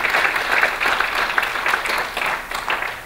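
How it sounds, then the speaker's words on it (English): Warm applause from an audience at a pitch competition, a full wash of clapping that swells and eases over a few seconds, fairly close and with no talking over it. "So how about a round of applause for all of these people who are helping out today."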